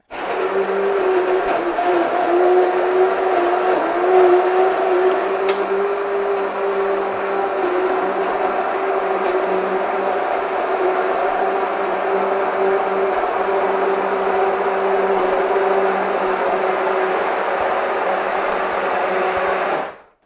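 An electric mixer whirs steadily at a high, constant pitch while blending chestnuts into cream, a loud continuous drone for about twenty seconds that stops abruptly at the end.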